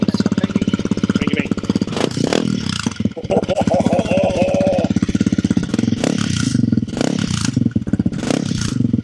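Honda CRF300L fitted with a Yoshimura full exhaust fires up and settles into a loud, steady idle with a rattling license plate, close by, while people talk and exclaim over it.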